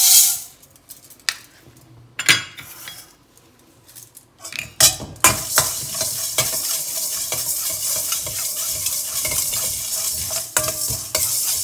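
Spices and fenugreek dry-roasting in a pan for a temple-style pulikachal tamarind paste: sparse scrapes and clinks at first, then a dense continuous rustling sizzle with stirring strokes, close up and without talk.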